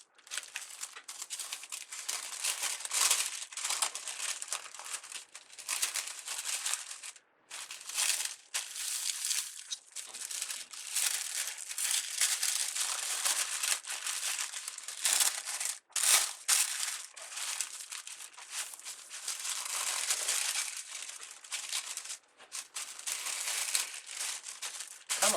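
Paper calendar packaging being folded by hand, a steady run of close crinkling and rustling with short pauses, no talk.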